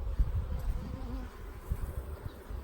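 Honey bees buzz around a beehive set among other hives, a faint, soft hum mixed with low rustling and handling noises close by.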